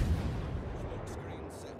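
Main guns of the warship Gadjah Mada fire in World of Warships: a heavy, close boom opens into a long, rolling low rumble that fades slowly, with a voice talking over it.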